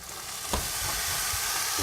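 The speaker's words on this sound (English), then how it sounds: "Listen to it sizzle." Soy sauce sizzles on steaks frying with ginger in a hot pan, a loud continuous hiss and crackle up close, with a brief stirring scrape and no talk.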